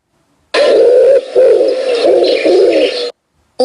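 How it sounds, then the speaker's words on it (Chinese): A pigeon coos in a few soft, low, rolling phrases, close and clear against silence, with short pauses between calls. "鸽子"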